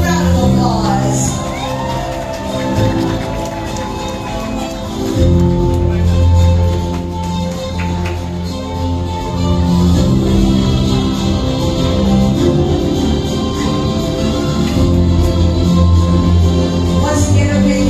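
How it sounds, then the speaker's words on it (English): A crowd at a birthday celebration cheers, whoops and shouts over loud music, with children's voices mixed into the lively, sustained noise that rises and falls in waves. "Everybody, let's give him a round of applause."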